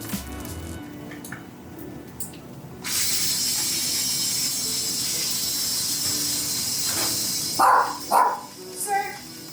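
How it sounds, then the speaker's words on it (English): A dog barks a few times in quick succession near the end, following a long stretch of steady hissing noise and faint earlier sounds close by. "you're barking a lot today, and we don't really like it"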